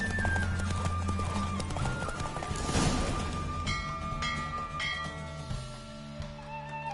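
Rhythmic hoofbeats of a horse galloping along in The Witcher 3 on PS5, with jingling tack and a bright game-like ambience, fairly close and steady throughout.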